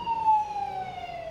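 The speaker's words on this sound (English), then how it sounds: "I'm so sorry about the sirens." A distant emergency siren wails steadily, a faint drawn-out tone sliding slowly downward with no voices present.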